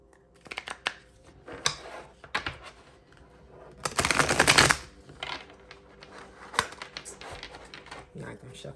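Tarot cards being shuffled make soft, scattered taps and flicks, with one dense riffling burst near the middle, heard fairly close and quiet in a calm room.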